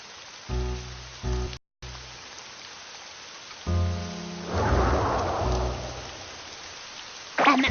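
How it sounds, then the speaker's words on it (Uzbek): Cartoon rain falls as a soft hissing patter that swells mid-scene, partly under bursts of tonal music and effects, with a brief sharp noise near the end. "Mana yomg'irda qoldik"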